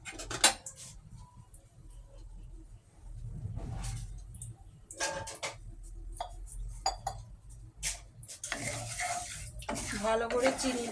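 Sugar is stirred into water in a pot with a spoon, giving soft scraping and clinking of metal against the pot, quiet and intermittent over a low background hum.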